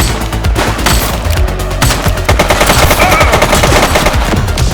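Rapid bursts of automatic gunfire from the police video game The Precinct, loud and close, with fast repeated shots running almost continuously and a few brief gaps, no voices over it.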